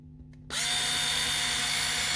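A power drill with its torque setting engaged whirs up abruptly and runs steadily and loud, driving screws into a higher-mass Warman bridge on a J & D 75 Jazz Bass after a quiet lead-in.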